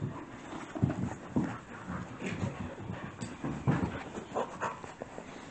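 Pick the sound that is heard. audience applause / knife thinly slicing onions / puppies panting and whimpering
puppies panting and whimpering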